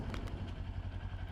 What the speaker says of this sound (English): because the exhaust sound on this bike is